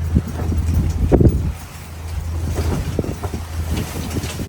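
Steady low drone of twin engines on a Grand Banks boat with a throbbing hum, wind buffeting over it, continuous and fairly loud throughout.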